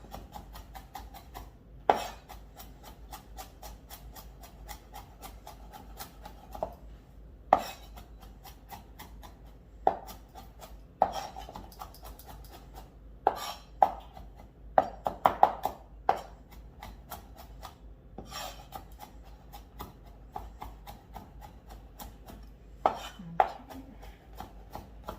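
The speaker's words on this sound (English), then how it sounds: "Okay, so you're gonna chop these." A knife chops vegetables on a board for chicken curry noodles, with a sparse, irregular series of sharp taps, some louder strikes clustered mid-way, over quiet kitchen background.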